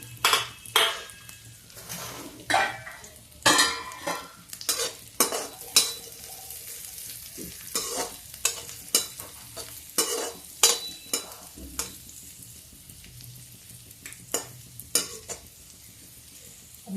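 Dry fruits and raisins frying in a pan of hot fat over a high flame, with a continuous sizzle and frequent spoon scrapes and metallic clatters against the pan in an irregular rhythm, close up, no talking.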